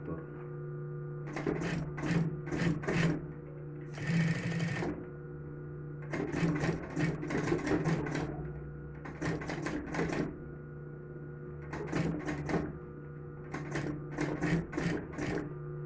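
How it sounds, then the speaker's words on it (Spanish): Flatbed sewing machine stitching around the edge of a small fabric phone bag: close, steady rapid mechanical whirring in repeated bursts of a second or two with short pauses, over a low motor hum. "damos un atraque y cosemos por todo el contorno"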